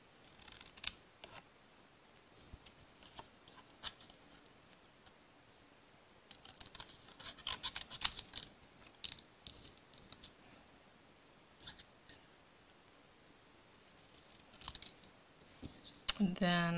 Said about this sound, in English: I'm going to get my paper snips. And I'm going to cut out each of these words.